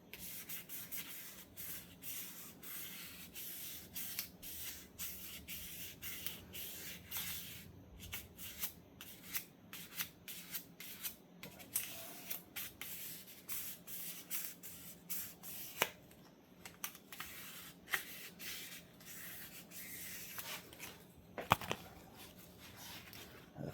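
A scouring pad scrubs an engine part for a Nova motor build, a faint continuous rasping with quick uneven strokes that runs steadily for a long stretch, close by and with no talk.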